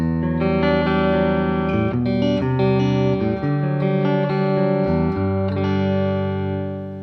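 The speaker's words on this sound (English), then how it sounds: "And our clean tone sounds like this." A clean electric guitar through a Universal Audio Apollo interface plays sustained chords and single notes, ringing clearly with a slight shimmer, steady and fairly loud throughout.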